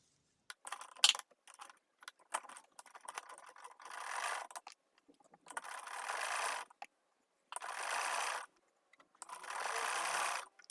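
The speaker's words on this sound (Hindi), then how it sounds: "पहले हम लैस के ऊपर सिलाई लगा लेते हैं।" A sewing machine stitches lace onto a fabric edge, running in several short, steady bursts with brief silent pauses between them, close and clear with no talking.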